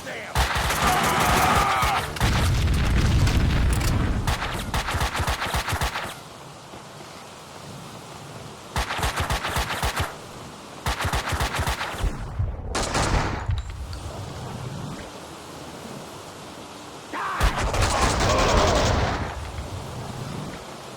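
Repeated heavy bursts of gunfire in Max Payne 2, loud rapid volleys broken by short quiet gaps, some passages dense and rumbling, with occasional talk between the shooting.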